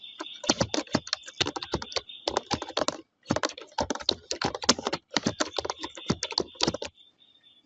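A name is typed on a computer keyboard in quick, close bursts of clicking keystrokes, separated by short pauses.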